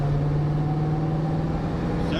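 A 1974 AMC Javelin with a fuel pump problem accelerating in second gear, its engine a loud steady drone with a strong low hum throughout, heard from close by.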